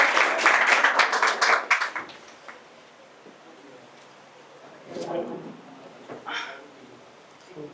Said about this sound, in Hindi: जोरदार तालियां अंकुश के लिए भी।